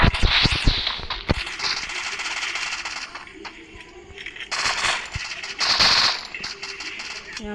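Rapid gunfire in a shooting video game, with bursts of automatic shots and sharp single cracks coming close and loud, interleaved with metallic clinks and brief pauses.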